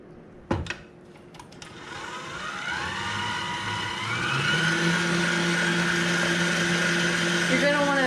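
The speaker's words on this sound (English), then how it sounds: "You're gonna want to mix it at a pretty high speed just so it gets everything out that you don't want" An electric mixer whirs up and keeps running at high speed through key lime pie filling, its pitch climbing as it gains speed and then holding steady and loud after a few opening clicks.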